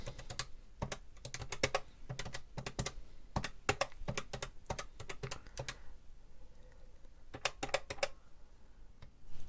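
Keys on a TRS-80 MC-10 computer keyboard, newly repaired, clack in rapid uneven clusters with brief pauses, close and crisp over a quiet room, with no talking.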